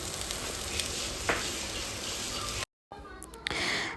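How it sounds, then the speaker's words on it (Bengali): Kolmi shak (water spinach) frying in a pan, a steady broadband sizzle that runs close and even, cut by a brief dropout before the hiss resumes with a few sharper spatters. "এখানে করছি শাক ভাজা"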